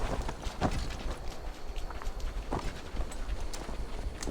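Horse hooves clip-clopping as a rider travels in the video game Assassin's Creed Valhalla, a steady, fairly quiet walking rhythm over soft background noise.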